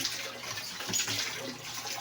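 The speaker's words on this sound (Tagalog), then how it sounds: "ayan ang tubig na yung nag-reserve ako dyan sa isang planggana guys" Water sloshes and trickles in a basin reserved for hand laundry, a soft, close, continuous splashing with small irregular bursts and no speech.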